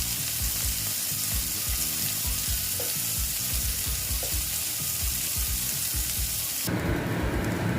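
Sliced bitter gourd fries in hot oil in a pan, giving a loud, continuous sizzle close up, broken by a few soft scrapes as the pieces are stirred.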